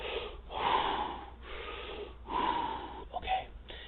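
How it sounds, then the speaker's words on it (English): Deep, heavy breaths drawn in and pushed out in slow, wheezy, snorting cycles, about three long breaths at close range with no talking. "Take deep breaths, Charles."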